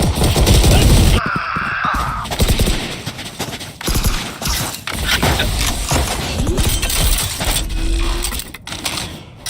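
Dense gunfire and rapid weapon bursts from a Valorant tournament match, loud and busy, with overlapping shots, game effects and a caster's voice heard talking through it.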